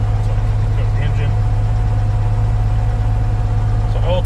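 A small airplane engine idles steadily just after startup, a loud, even low throb with a faint whine above it, while a voice talks briefly over it.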